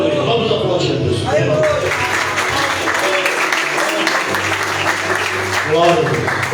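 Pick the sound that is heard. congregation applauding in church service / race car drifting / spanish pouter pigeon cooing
congregation applauding in church service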